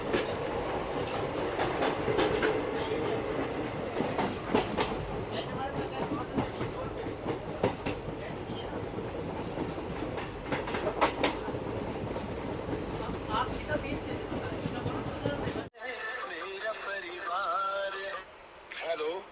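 Delhi-Bikaner Intercity Express rolling along the rails, heard from inside the coach as continuous clickety-clack and rumble with faint voices, then cut to a quieter scene near the end.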